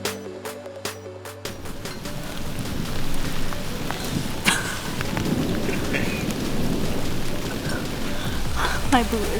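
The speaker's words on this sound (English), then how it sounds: "there was a big storm coming in, and it was extremely windy and rainy." Heavy storm rain lashes down in extremely windy weather during a September hunt in Missouri, a dense roaring hiss broken by a few sharp knocks, with some brief tonal sounds near the start and end.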